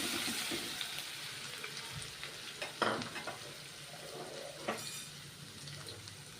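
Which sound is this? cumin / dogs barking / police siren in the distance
cumin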